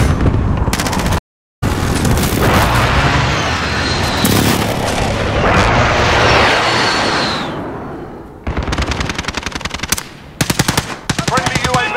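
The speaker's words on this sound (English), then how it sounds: "Be advised, enemy precision airstrike inbound." Precision airstrike explosions in Call of Duty multiplayer, heard as a long, heavy rumbling roar that fades out, followed by rapid bursts of close gunfire.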